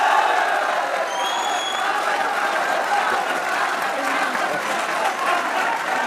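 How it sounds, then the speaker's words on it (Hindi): Sustained applause with some cheering from a studio audience during a cricket show, a dense continuous wash of clapping at steady loudness for several seconds, with faint voices mixed in. "और अहमद भाई की तरफ से बाबर के लिए तालियां होनी चाहिए"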